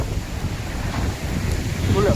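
A strong windstorm with rain in Odisha roars and buffets the microphone continuously, a loud, rumbling rush with no letup, with faint voices buried underneath.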